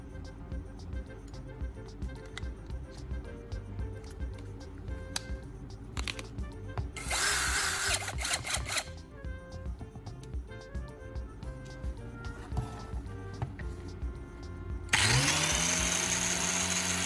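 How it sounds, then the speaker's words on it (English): A power drill whirs steadily nearby, spinning a spark plug whose thread tip is ground against an abrasive surface in harsh metallic bursts, ending in a louder sustained grinding whine. "Now we'll secure in the drill chuck to grind down the tip of the threads"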